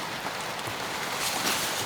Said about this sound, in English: It's raining right now, isn't it?